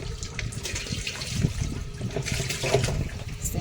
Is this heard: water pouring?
yes